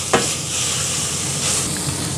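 Pork larb mixture, the Laotian minced-pork dish, sizzles steadily as it is stirred and fried in a pan, with a continuous close hiss and occasional scraping stirs and no voices.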